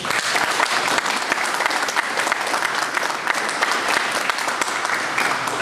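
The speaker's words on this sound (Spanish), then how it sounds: "Para ello pido fuertes palmas," Steady, loud applause from an audience at an academic ceremony presenting a book, dense clapping sustained throughout without a break.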